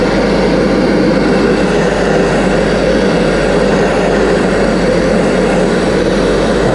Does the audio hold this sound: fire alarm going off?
no